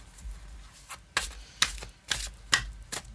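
A tarot card deck being shuffled by hand, with soft papery riffles and sharper card slaps coming in a loose rhythm of about five bursts, close and alone.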